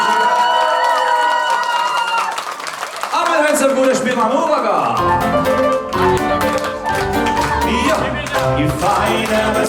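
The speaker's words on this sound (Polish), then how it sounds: "Poproszę wielkie brawa dla Marcina." Loud wedding crowd cheering and clapping over festive live band music, with whoops rising among the noise.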